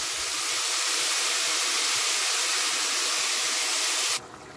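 Meat broth pours over rice in a cooking pot as a steady, close, loud hissing splash that runs unbroken for about four seconds, then stops abruptly into quiet.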